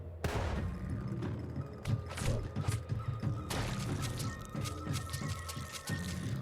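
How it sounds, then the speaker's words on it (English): Grenades going off in the video game Caves of Qud: a string of dull, booming blasts and thuds, fairly close and loud, coming in irregular bursts over a continuous low rumble, with no talking. "let me throw some grenades"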